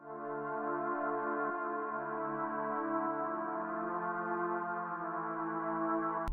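A dark Analog Lab synth pad sustains a chord progression for a beat, smooth layered harmonic tones holding steadily with a slight shift midway, alone and moderately loud, ending in a brief click.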